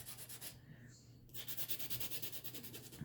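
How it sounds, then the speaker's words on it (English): Coarse sandpaper rubs white paint off a plant marker in quick, rhythmic back-and-forth strokes, close and scratchy, with a short pause before the sanding resumes. "you're going to sand away some of the white paint"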